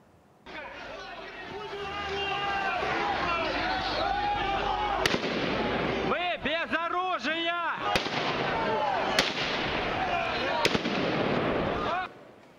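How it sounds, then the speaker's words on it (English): Gunfire strikes near civilians in Mariupol news footage. Repeated sharp cracks sound over a dense crowd of shouting, wailing voices that fill most of the scene. "footage from the scene shows civilians coming under fire"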